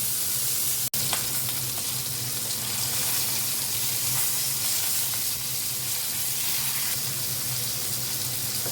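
Steady, loud sizzling of hilsa fish frying in hot oil until light brown, turned side to side, continuous throughout with one brief sharp click near the start.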